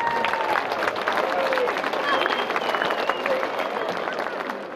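An audience at an international Kazakh-Kyrgyz improvised poetry contest applauds in a steady, dense patter of clapping, with crowd murmur and voices mixed in throughout.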